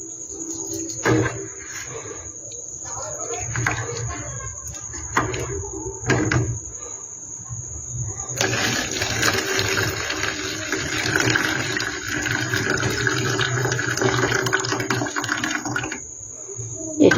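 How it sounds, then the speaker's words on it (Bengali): Sago pearls rubbed and washed by hand in water for laddoo, a close, continuous wet swishing and sloshing with a few sharp knocks, running steadily against a high constant whine. "ভালো করে ডলে ডলে ডলে ডলে একটু ধুয়ে নিচ্ছি।"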